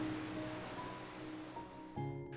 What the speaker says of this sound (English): The sound of waves crashing below blends perfectly with the call of seabirds overhead.